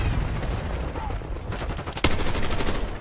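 Gunfire in a multiplayer shooter video game match, a continuous rattle of rapid shots with one loud sharp crack near the middle, heard close and steady throughout with voices faintly underneath.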